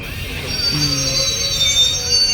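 A train at Badarpur railway junction, a steady rumble with high metallic wheel squeals drawn out over the rolling noise, fairly loud and close.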